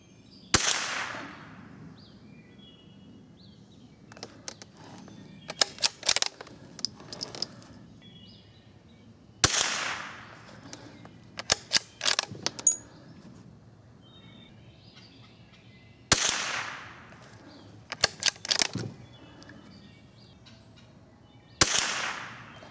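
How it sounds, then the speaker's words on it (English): Rifle shots with target ammunition at a top target 40 yards away, comparing Marlin Microgroove and Ballard rifling: four sharp, loud reports spaced several seconds apart, each followed by a decaying echo and scattered mechanical clicks between shots. "I think I've got them sighted in with target ammunition. But here we go. Shooting at the top target."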